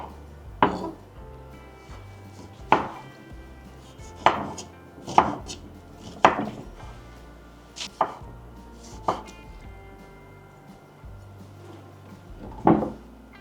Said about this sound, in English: dice 1 tomato into small pieces and add a little to each cup